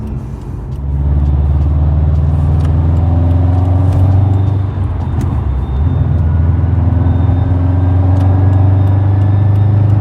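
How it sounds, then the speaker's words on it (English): Turbo whine from a 2015-2021 Subaru WRX STI fitted with an RES valvetronic titanium catback exhaust: thin, rising whistles sit above a loud, steady engine and exhaust drone for the whole stretch. "You can hear the turbo whine too."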